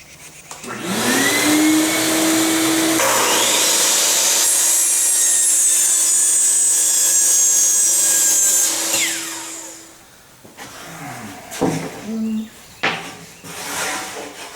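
A powered saw cuts wooden rails to length for a workbench, its motor whine rising to a steady loud drone for several seconds before winding down, followed by a few knocks and clatters of wood.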